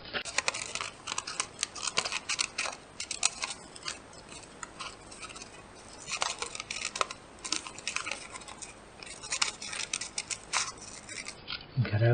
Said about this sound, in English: take your scissors and put it in the hole and cut out the line